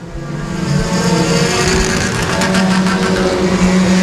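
Race cars roaring around the oval at Timberline Speedway during a heat, a loud, continuous blend of several engines revving and droning close by, with pitch rising and shifting as the pack passes.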